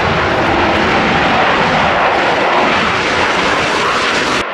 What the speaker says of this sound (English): Pakistan JF-17 fighter jet,